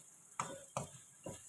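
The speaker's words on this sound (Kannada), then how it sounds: "ಹಾಕ್ಕೊಂಡು ಎಲ್ಲನೂ ಚೆನ್ನಾಗಿ ಮಿಕ್ಸ್ ಮಾಡ್ಕೋತಾ ಇದ್ದೀನಿ" A spoon stirs masala spices through capsicum, potato and rice frying in a pan, three soft scraping strokes over a faint sizzle, quiet and close.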